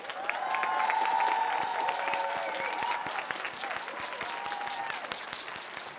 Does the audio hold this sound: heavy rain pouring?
no